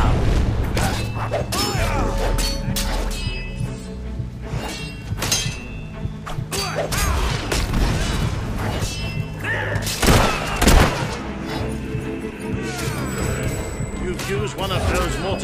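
Mortar blasts and explosions boom through a castle-siege battle in the video game Fable 3, heavy thuds and crashes repeating throughout amid dense battle noise, with voices talking over them.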